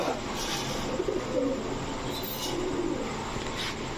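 Soft coos of fancy pigeons, including a crested female Chila, murmur through a steady background hum at a pigeon sale, a few low warbling calls rising now and then without any talk.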